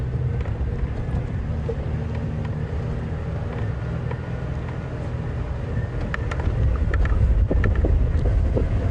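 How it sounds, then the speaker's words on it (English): Steady wind buffets the microphones during a morning safari drive at Djuma and Arathusa, a constant low rumble that swells louder toward the end, with no talking. "A lot of wind here, folks, so apologies on the mics."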